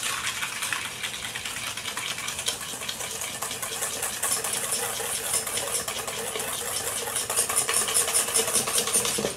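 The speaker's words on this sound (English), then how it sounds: "And I'm gonna whisk that all up." Sugar being whisked into cream for a crema bianca, heard as a steady, continuous whirring and swishing that runs unbroken throughout with no talking.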